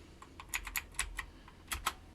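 Light keystrokes on a computer keyboard during CAD software entry, about a dozen crisp clicks in an uneven rhythm, close and fairly quiet with no talking.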